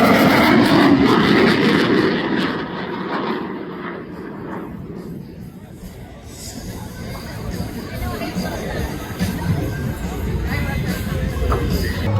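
An F/A-18 Super Hornet jet makes a photo pass over an airfield airshow, a loud broad engine roar that swells then fades back under crowd chatter and commentary.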